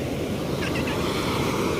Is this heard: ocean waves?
yes